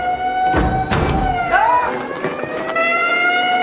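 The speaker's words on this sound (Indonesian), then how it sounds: "Di malam berikutnya, tiba-tiba sirine berbunyi." A siren wails at night at a North Korean army post in a film, rising and holding a steady tone over several seconds, mixed with thumps and background movement.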